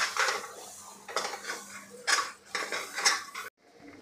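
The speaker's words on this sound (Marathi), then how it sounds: "आता यामध्ये घालायचं आहे आपण जे मूग वाटून घेतलेले ते यामध्ये आपण परतून घ्यायचे आहे।" Ground green moong paste sizzles in oil in a pan while a utensil scrapes and clatters against the metal in several rhythmic bursts, close and fairly quiet, ending abruptly.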